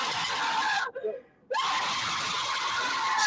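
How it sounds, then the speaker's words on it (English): A woman screams loudly and continuously, the shrill cry broken by a brief half-second gap before resuming at full force. "Screaming ain't helping a thing"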